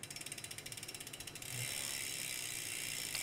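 Spinning wheel of a folding bicycle during cleaning with disc brake cleaner, its freewheel ratchet giving rapid, even clicks for about a second and a half before settling into a steady whir.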